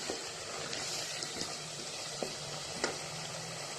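Potatoes and green beans fry in a spiced masala with a steady, close sizzling hiss, broken now and then by a few soft clicks of a spoon against the pan.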